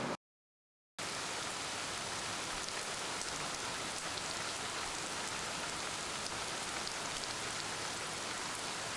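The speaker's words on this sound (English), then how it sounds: "it's raining again" Steady rain in the rainy season falls in an even, dense hiss after a short silent gap at the start, continuing unbroken at moderate loudness with no voices.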